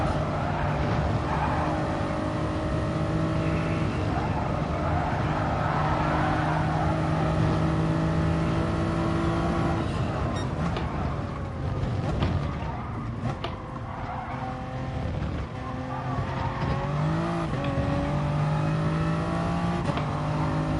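Toyota Supra race car in the Gran Turismo Sport video game, its engine droning continuously at high revs with shifts in pitch as it accelerates and brakes through corners, with no break throughout.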